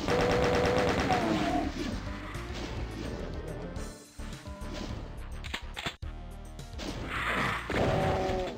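Rapid gunfire blasts from The Ultimate Doom shooting at imps in episode 4, dense and loud throughout with crashing impacts and a brief lull near the middle, no talking.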